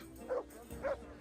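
A dog in the Kingdom Come Deliverance video game gives two short, fairly faint barks about half a second apart over a low background hum.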